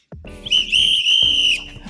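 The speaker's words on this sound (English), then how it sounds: "Anyone who knows the answer, whistle" A shrill, sustained whistle rings out loud and close, holding a steady pitch for about a second, with lower hums and breathy sounds around it.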